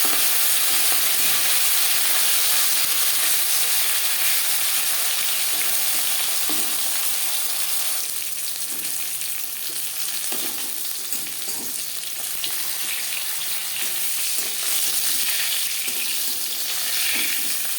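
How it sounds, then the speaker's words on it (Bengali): Steady, dense sizzling of marinated rohu fish frying in hot oil, with occasional soft clicks and scrapes of a utensil; no voices. "মাছ ভাজা হয়ে গেছে"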